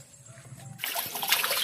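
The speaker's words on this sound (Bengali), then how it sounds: "এই যে ওলটা ধুয়ে নিচ্ছে একেবারে ক্লিয়ার করে" Water pouring and splashing over a freshly harvested elephant foot yam as it is washed, a steady close rush of running water starting abruptly after a quiet moment.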